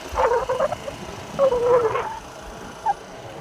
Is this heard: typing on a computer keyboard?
no